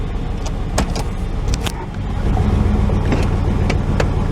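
A 1996 Chevrolet Tahoe's engine runs steadily at an elevated, surging idle of around 2,500 rpm as the truck creeps along. The drone is close, continuous and fairly loud, with a few faint clicks and knocks over it and no talking.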